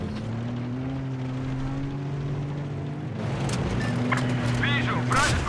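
Enemy helicopter in Battlefield 4, a steady whirring rotor drone persisting under the game's clatter and someone talking, with brief sharp bursts of gunfire near the end.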